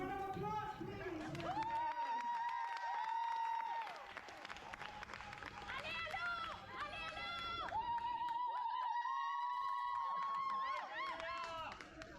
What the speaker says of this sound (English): A round of applause, please, for the players.